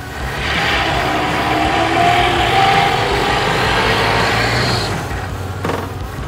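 A 1917 Ford Model T Speedster in Ruckstell high gear rips down a driveway, its engine a loud, steady, close drone that holds for several seconds and then eases off near the end.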